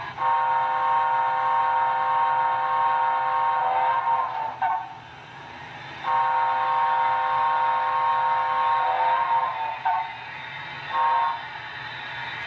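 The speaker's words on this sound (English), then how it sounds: "it's a playable whistle" A model steam locomotive whistle on a brass Broadway Limited T&P 2-10-4 sounds in long sustained blasts, two held toots separated by a pause, with brief shorter toots, loud and close.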